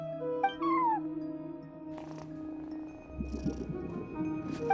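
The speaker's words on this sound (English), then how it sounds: "No one except for a cat watching over the front desk." A cat meows in the Genshin Impact video game, a short rising-and-falling meow standing out over soft ambient game music and tones, with a brief chime and a later rattle of game effects.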